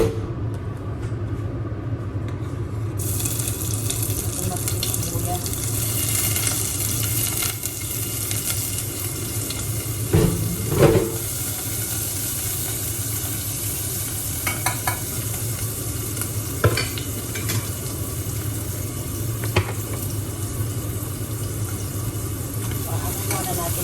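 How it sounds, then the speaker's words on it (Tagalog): Garlic and ginger fry in a pan with a steady, loud sizzle that runs throughout, and a few soft clinks of stirring come through now and then. "Golden brown ang ating bawang at luya."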